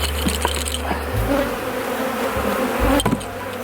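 A dense, continuous buzzing of many honey bees in a hive with young emerging bees fills the air up close, with a low droning hum rising and falling underneath.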